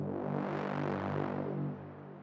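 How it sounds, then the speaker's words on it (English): A cinematic BRAAM trailer sound built from a saw wave with many stacked voices blares as one thick, buzzing, sustained chord that dips slightly and fades toward the end. "So you can hear it's literally just a saw wave with a bunch of voices."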